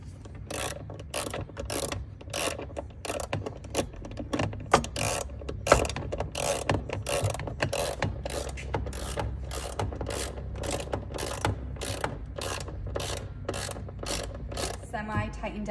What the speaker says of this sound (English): Semi-tighten down this bolt.